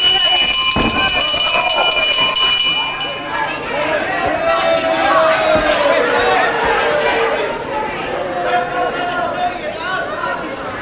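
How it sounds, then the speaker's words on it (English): A ringing bell at a British professional wrestling bout from World of Sport, sounding bright and sustained for the first few seconds over loud crowd chatter, with a commentator talking throughout. "Myers, I think the bell might beat the count."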